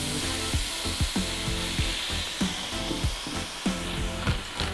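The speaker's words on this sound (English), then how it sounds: "I'm going to take some wine and we're going to deglaze this with wine." Wine poured into a hot pan after searing chicken breasts sizzles loudly and steadily, a dense close hiss punctuated by rhythmic scraping strokes as the browned bits are worked loose.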